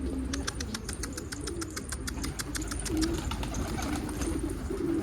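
Pigeons coo steadily in the background, with many small birds chirping over a constant low rumble.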